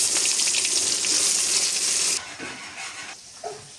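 Fish frying in hot oil in a wok gives a loud, dense sizzle that drops sharply after about two seconds to a softer crackle, with a few light clinks near the end.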